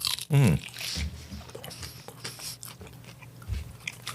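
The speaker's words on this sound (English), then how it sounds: "I'm sure you can pick up all that crunching. Good call getting crunchy wings, too." Someone bites and chews crunchy spicy chicken wings up close, with a loud initial crunch followed by scattered chewing and crackling sounds.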